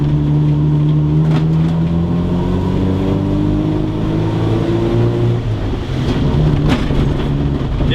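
A Ford Escort engine held at high revs, a steady loud drone with rising and falling harmonics throughout, heard close with no talking.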